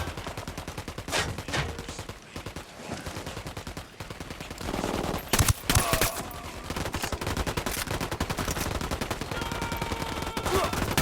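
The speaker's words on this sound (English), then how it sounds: "Opening fire on these fuckers." Sustained gunfire in the video game Ghost Recon Wildlands, rapid automatic bursts rattling almost continuously for about eleven seconds, with a few louder blasts midway and brief gaps between volleys.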